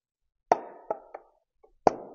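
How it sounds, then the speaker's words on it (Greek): A sealed tin of Soft99 Tire Black Wax being pried open, giving a few sharp hollow metallic pops and clicks close by in an otherwise quiet room. "Ανοίγουμε το σφραγισμένο κουτί"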